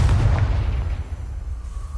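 A Confringo blasting spell explodes in Hogwarts Legacy, a deep, heavy boom that rumbles close and loud and slowly fades over about two seconds.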